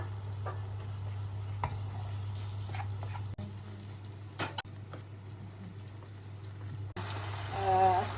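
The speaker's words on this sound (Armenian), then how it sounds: "Սպասում ենք մի քիչ էլ հյութը գոլորշիանա, մի քիչ էլ տապակվի և արդեն պատրաստ է։" Pie filling seasoned with black and red pepper, salt and greens frying in a pan as its juices cook off, a steady soft sizzle with occasional stirring scrapes over a low constant hum, no talking.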